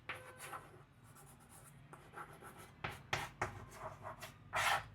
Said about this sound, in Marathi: आता इथं लिहितो ही